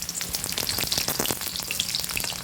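Pieces of pointed gourd (potol) hit hot oil in a pan for frying, giving a steady, close crackling sizzle with scattered sharp pops throughout.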